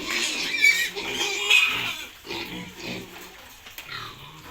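Piglets on a pig farm raising a batch for fattening grunt and snuffle close by, with a continuous run of rough grunts and occasional short squeals and no talking.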